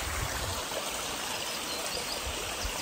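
A little waterfall by a bench in the shade on a hot mountain hike gives a steady, close, continuous rush and trickle of falling water, with no voices over it.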